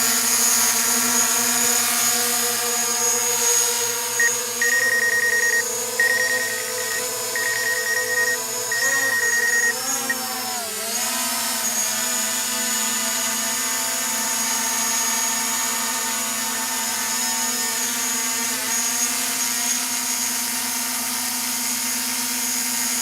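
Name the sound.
DJI Mavic Pro drone flying with a modded battery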